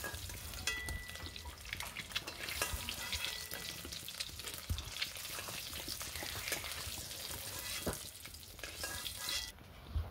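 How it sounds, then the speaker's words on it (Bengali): Eggs fry in hot oil for an egg curry, giving a constant crackling sizzle with occasional stirring scrapes and pops, close and even throughout, with no voices. "তো দেখুন ডিমগুলি লাল হয়ে এসছে। এবার আমরা প্রায় ভাজা কমপ্লিট।"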